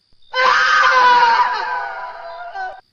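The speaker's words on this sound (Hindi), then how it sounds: "अचानक मुझे नीचे वाले कमरे से चिन्मय के चीखने की आवाज़ आई" A single loud, sustained high-pitched scream rising abruptly and holding for about two seconds before cutting off, close and alone.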